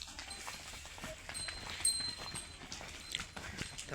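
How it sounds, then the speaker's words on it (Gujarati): A herd of buffaloes walks along, hooves thudding and clopping in an irregular rhythm at moderate distance, fairly faint against a quiet outdoor background. "તો મિત્રો ભેંસું જાય છે આપણે"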